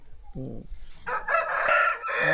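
A Kadapa-breed rooster at a farm crows loudly and close, one long crow following a brief lower cluck, standing alone without talk.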